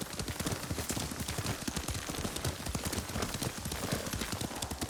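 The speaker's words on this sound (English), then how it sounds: "Lord Sakai taught me to ride a horse." Horse hooves clip-clop in a steady, fast rhythm while riding in Ghost of Tsushima. The sound is loud and close, continuous throughout, with no talking.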